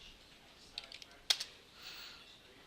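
A handful of light, quick taps on a computer keyboard while searching in a software dashboard, a short scattered burst and then a sharper pair of clicks, close and faint over a quiet room hiss.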